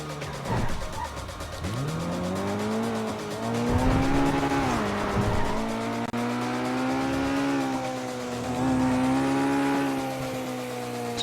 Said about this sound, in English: It's good to actually drive a car again.